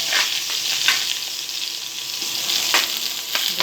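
Cooking oil sizzling in a pan for a Filipino ginataang langka dish, a close, steady hiss broken by brief bursts of louder crackle, with no voices over it.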